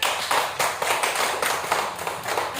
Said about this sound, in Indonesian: Beri tepuk tangan lagi sekali.